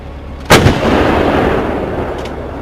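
A single heavy military artillery shot booms out in a sudden loud blast, followed by a long rumbling roll that fades slowly over the next two seconds. No voices are heard.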